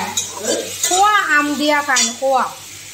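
Turmeric powder is stirred into raw mango chutney in a pan, with soft scraping and a faint sizzle under a voice that talks throughout.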